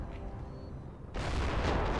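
Friendly cannons open fire in a Napoleon Total War battle in Portugal: after a quieter lull, a loud, broad volley of booms erupts and keeps rolling as a dense barrage.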